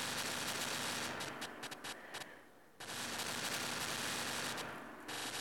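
Rapid machine gun fire from a Minecraft PE mod, a dense, continuous burst of faint video game gunfire with a brief gap before it resumes.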